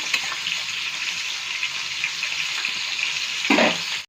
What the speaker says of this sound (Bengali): দেখুন ধনেপাতাটা আমি একটু নেড়ে দেবো।